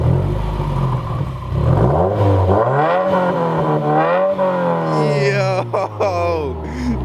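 A 2018 Subaru WRX with a muffler-delete exhaust revving hard, loud raspy engine climbing and falling in pitch through several rev sweeps, close up, with turbo whine rising near the end and brief voices.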